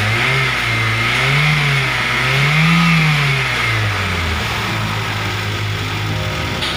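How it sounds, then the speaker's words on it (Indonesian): A car engine with worn piston rings and a compression leak revs roughly. The engine note is loud and close, rising and falling in slow surges before settling toward idle, with no voices. "jika ada kebocoran kompresi, maka suara mesin menjadi lebih kasar"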